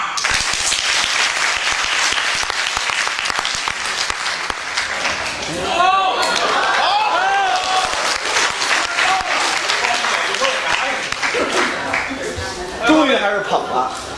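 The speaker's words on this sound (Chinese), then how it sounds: "咱给花篮同志鼓掌" Sustained audience applause fills a Beijing crosstalk theater performance, loud and dense throughout, with a brief swell near the middle and another near the end, while voices cut through the clapping.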